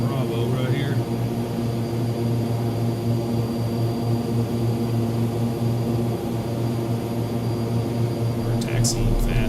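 Steady, loud drone of a Black Square King Air's turboprop engines in a flight simulator as the aircraft taxis fast toward a taxiway, a constant tonal hum throughout with a brief higher whine near the end.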